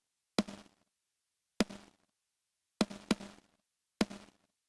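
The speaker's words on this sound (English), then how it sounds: "you can hear exactly what's being removed from that snare." Only the clipped-off transient of a rock snare drum, soloed from the Kazrog K-Clip clipper's delta output, comes through as five short, faint, papery clicks with quick decay, spaced about a second apart, with no voice.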